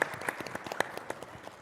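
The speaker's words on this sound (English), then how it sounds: "A round of applause for her, please." Sparse applause from a small audience at an e-learning panel discussion, scattered claps greeting a panelist, fairly faint and uneven.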